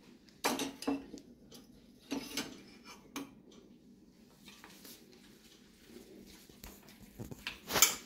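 Spoon stirring and scraping cabbage bhanole batter in a bowl: sparse, close clinks and knocks in irregular bursts against a quiet background.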